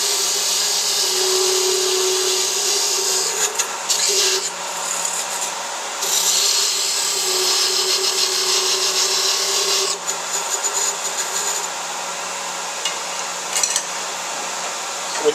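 Parting tool cutting into a wooden knitting needle spinning on a lathe, a continuous loud scraping hiss with a steady motor hum beneath, broken by short pauses and shifts in pressure as the cut deepens.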